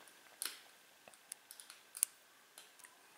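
Small sharp clicks from the pins of a vintage 40 mm Junkunc Bros. American padlock being picked, a dozen or so faint, close, irregular ticks with quiet gaps between them.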